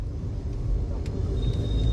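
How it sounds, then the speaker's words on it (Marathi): A car drives along a road from Panvel toward the Atal Setu bridge, giving a steady low rumble and road noise heard from inside, with a faint high whine appearing near the end. "कार से आ रहे हैं ना अभी"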